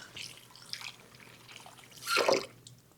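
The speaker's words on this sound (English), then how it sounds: "Wash my hands off" Hands washed under a running kitchen tap during chicken meal prep, a quiet trickle and drip of water that swells into a brief louder splash near the end.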